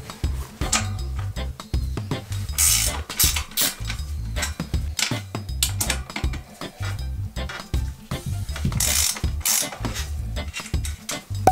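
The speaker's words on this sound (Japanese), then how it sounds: "この後ろのホイールのナットですね、こいつは緩めて" A ratchet wrench loosens the 15 mm rear wheel nut on a fixed-gear bicycle, rapid clicking ratchet strokes repeating in bursts throughout, loud and close, with no speech.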